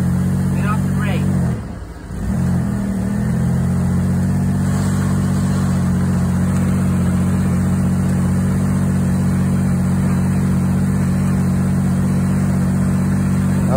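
A Chevy Impala engine running with a sustained mid-pitched drone that rises briefly early on, with a voice talking under it.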